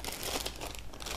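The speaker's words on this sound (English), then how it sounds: "I've got some plastic bags." Plastic bags in a workshop first aid kit being handled, giving soft, continuous crinkling and rustling close by, quiet and without speech.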